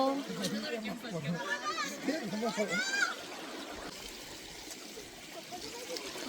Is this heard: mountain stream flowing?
yes